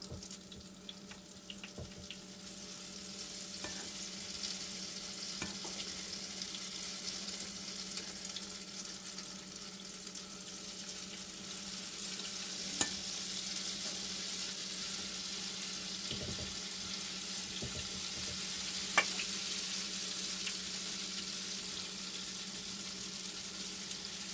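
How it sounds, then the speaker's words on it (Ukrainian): Potato pancakes (deruny) fry in oil in a pan, a steady soft sizzle running throughout at low level, with a few faint clicks of utensils now and then. "І жаряться."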